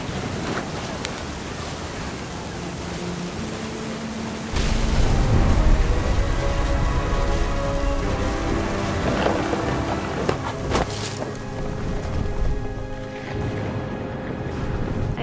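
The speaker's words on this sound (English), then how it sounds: "Thunder sounded much too close and full of angry power" Wind and sea waves roll on a stormy beach in the video game What Remains of Edith Finch, a steady roar that swells with deep rumbling partway through alongside faint music tones.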